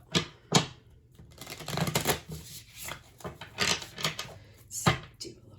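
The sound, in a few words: shuffling tarot cards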